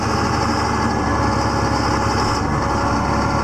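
A tractor engine runs steadily after a cold start, a loud, close, rough mechanical chug with constant vibration and no pauses or voices.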